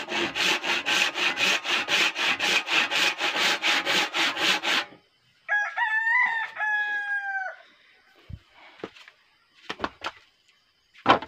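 Hand saw cutting through sal wood, a rapid run of about twenty even rasping strokes for five seconds, close and loud, then stopping; a rooster crows afterward and a few faint knocks follow.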